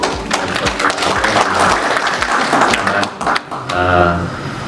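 Audience applause at an Indonesian public health-protocol event in Maluku, a dense, steady wash of clapping that fills the clip, loud and close, with speech-like tones and voices mixed through it.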